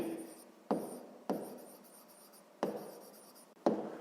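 A pen writing in a school notebook during a sixth-grade maths exercise, four short scratchy bursts of writing separated by brief pauses, close and quiet with no talk.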